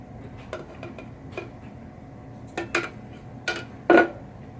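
A utensil stirs pinball shooter lane resurfacing mix in a container, making scattered light clinks and scrapes. The taps come louder and closer together toward the end, with no talking.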